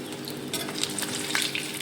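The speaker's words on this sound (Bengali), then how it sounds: "খুব টাইম নিয়ে ভাজতে হয়, তাহলে মচমচেটাও ভালো হবে" Fish frying slowly in a pan for crispness, a steady soft sizzle with crackling pops and a few light stirring scrapes, close and continuous with no voices.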